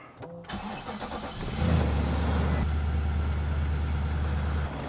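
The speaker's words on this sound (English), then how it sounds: "Gotta warm this car up" A car engine cranks and fires up in cold weather, then settles into a steady, close, low idle rumble as it warms up, with no one talking.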